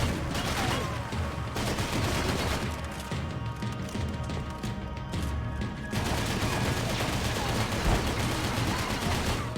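Continuous heavy gunfire in Max Payne 3, dense overlapping shots and rattling bursts filling the whole stretch with a brief thinning midway, with faint voices mixed in.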